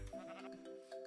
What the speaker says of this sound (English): There's a sheep here.